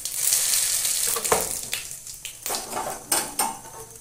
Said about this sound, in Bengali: ফোড়ন দিয়ে দেবো জিরে